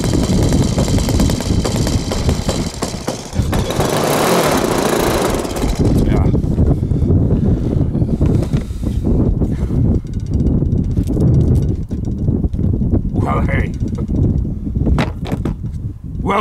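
Strong wind buffeting the microphone at an RC model flying field, a loud continuous rumble with gusty surges, and voices talking over it at times.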